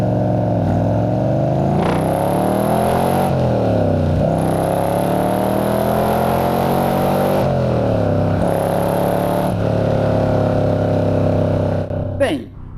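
Inside the cabin of a De Tomaso Pantera GT5, the engine roars loudly and climbs in pitch through several gears, with a brief dip at each shift before winding up again.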